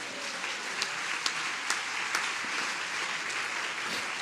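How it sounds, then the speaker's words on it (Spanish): A church congregation breaks into sustained applause, a broad even roar of many hands clapping with a few sharper claps standing out, heard from a moderate distance. "¿Alguien puede darle un aplauso al Señor?"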